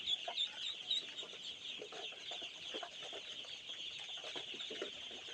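A flock of four-day-old ducklings peeps constantly in high, shrill chirps as they dash about. The sound is faint and busy, with overlapping calls and no speech.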